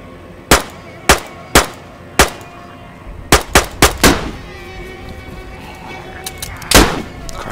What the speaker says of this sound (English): gunshots this way